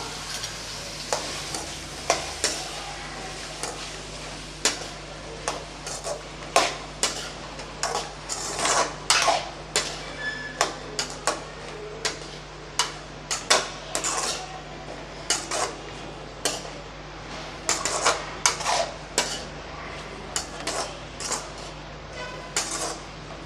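Radish, potato, carrot and drumstick pieces being sautéed in a pan for sambar, with a steady frying sizzle and frequent sharp scrapes and clinks of a spatula stirring against the pan, close up and without speech.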